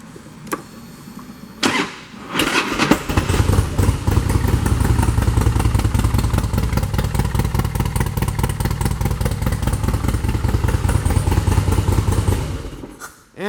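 A 2007 Harley-Davidson Softail Springer Classic with low mileage starts up after a couple of thumps, then settles into a loud, steady, close-up idle with a rumbling, even exhaust that runs on alone until it cuts off at the end.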